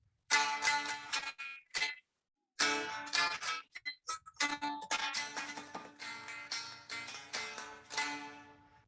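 A keyed string instrument with sympathetic strings plays a run of pressed-key notes over a sustained drone, in bright bowed-sounding phrases broken by short pauses, fairly quiet and close.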